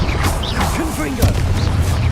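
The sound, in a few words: Confringo blasting spell in the video game Hogwarts Legacy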